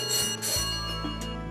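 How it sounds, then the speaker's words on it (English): A signal bell on the headgear of the Hutti gold mine rings in clear metallic strikes, several tones ringing out one after another and sustaining close by, with no talking. "Hey Chaudhary, bell बराबर आ रहा क्या?"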